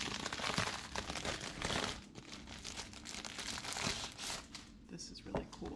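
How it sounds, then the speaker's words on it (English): New craft paper being unwrapped and handled while preparing birthday centerpieces, with steady crinkling and crumpling close by, continuing for several seconds alongside occasional speech. "So I'm gonna open up some new paper I got."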